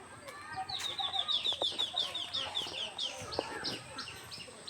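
Ducklings near a weed-choked pond give rapid high peeping calls in busy bursts, fairly close, with a faint voice and other bird sounds in the background.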